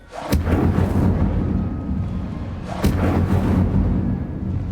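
A fire spell in the video game Hogwarts Legacy sets books ablaze with a sudden booming whoosh, followed by a second blast about two seconds later, each trailing into a dense, sustained rumbling roar.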